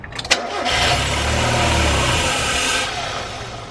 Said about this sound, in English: So right now I'm gonna turn over the engine by starting it.